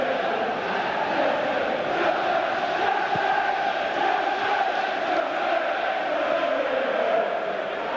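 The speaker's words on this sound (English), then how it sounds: "Well, that's really got the crowd going." Football stadium crowd roaring after a shot hits the post in a Chelsea versus Everton match, a sustained, loud, dense swell of voices lasting throughout without pause.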